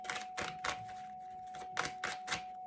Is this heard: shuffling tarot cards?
yes